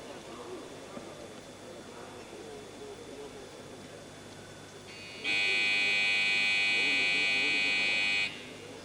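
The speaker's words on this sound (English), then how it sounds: "Buzzer you hear in the background indicates that he's got 30 seconds left." A loud, steady electronic competition timer buzzer sounds for about three seconds at the 1999 European Weightlifting Championships, marking 30 seconds left, over a low background murmur of a crowd.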